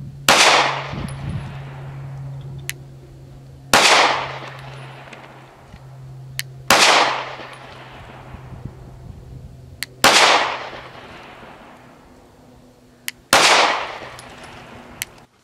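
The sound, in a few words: gunshots from Arex Delta M Gen 2 Tactical Compact pistol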